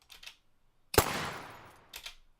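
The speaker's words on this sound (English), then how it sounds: "a third gunshot, actually." A single sharp gunshot, layered from several shots for a punchier film sound effect, cracks out and then decays in a long reverberant tail. Faint softer clicks come just before it and just after.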